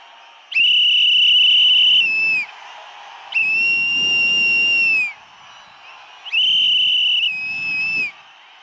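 Whistles blow in three loud, sustained bursts of about two seconds each, with short gaps between them, heard alongside crowd noise at a Tamil Nadu election campaign rally in Kanyakumari.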